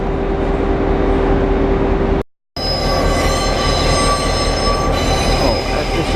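A suburban train rumbles past loudly and close, with metallic wheel squeal ringing through the steady roar.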